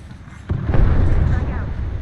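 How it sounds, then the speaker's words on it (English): A frag grenade blows up in the video game Apex Legends, one sudden loud blast with a rumbling tail that lingers for over a second. "Frag out"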